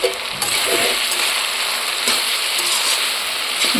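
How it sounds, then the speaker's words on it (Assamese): A mixed vegetable fry sizzles loudly and steadily in a pan, a dense, continuous frying hiss with occasional stirring scrapes and no talking. "এইফালে আৰু মিক্স ভাজি এখনো বহাইছোঁ"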